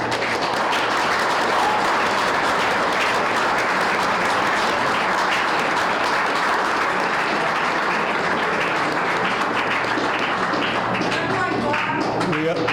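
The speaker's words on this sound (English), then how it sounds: "I'd like to have you give them a round of applause, please." A town of Clinton school committee candidates night audience applauds the candidates: loud, sustained clapping from a roomful of people, steady for several seconds before thinning into scattered individual claps near the end.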